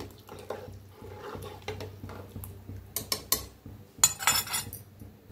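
Soya rice being mixed with lemon juice in a pot, with a utensil scraping and tapping against the metal in irregular clinks that grow sharper near the end, close and fairly quiet, no speech.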